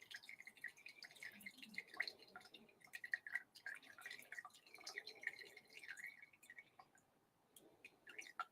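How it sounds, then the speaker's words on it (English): Liquid is poured slowly over the back of a spoon to layer a drink, giving a faint, close trickle with soft irregular drips and splashes, with no voices. "Pour it slowly over a spoon."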